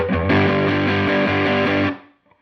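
Electric guitar played through an Ibanez TS9 Tube Screamer Reissue overdrive pedal driving an amp, a loud sustained distorted chord with rhythmic repeated attacks for about two seconds before decaying to silence.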